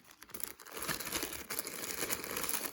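A zip bag packed with glass rhinestones is handled up close, giving soft crinkling plastic and shifting, rattling glass beads in continuous rustles with no talk.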